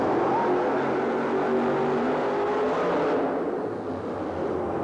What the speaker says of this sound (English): He's running the big blown motor of the Gravedigger